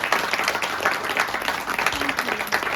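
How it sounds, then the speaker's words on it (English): Enthusiastic applause from an audience at a live Celtic folktale storytelling performance, brisk close clapping with a few voices mixed in, continuing steadily for a few seconds. "Massive round of applause for Joe and Gary for looking after us tonight."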